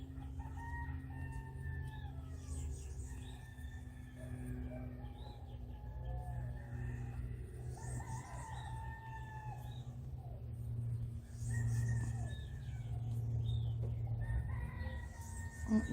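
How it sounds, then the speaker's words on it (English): Several roosters crow repeatedly after rain, their rising calls overlapping at moderate distance over a steady low hum, with faint other birds in the background. "The birds and the roosters have also woken up after all that rain."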